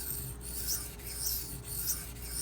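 A Benchmade 9400 knife blade is sharpened on a Shapton Glass stone with repeated steady scraping strokes, about four close, even passes of rasping friction with no voices.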